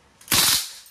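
A CO2-powered blowback airgun rifle on full auto lets off one short, loud, close burst of rapid-fire shots that rings out and fades within a second.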